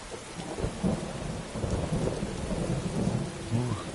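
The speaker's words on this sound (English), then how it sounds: "Oh, wicked thunder." A thunderstorm rolls through Skyrim, with heavy steady rain hissing on the ground under deep, rumbling thunder that swells and fades across the whole stretch, loud and enveloping, without speech.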